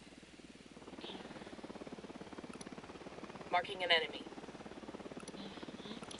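Enemy Unidad helicopter on patrol in Ghost Recon Wildlands, its rotor a faint, steady low thumping throughout, under a voice and brief electronic beeps.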